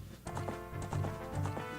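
Horse hooves from the video game Zelda: Ocarina of Time, a quick clip-clop gallop at moderate volume, close and rhythmic, with no talk.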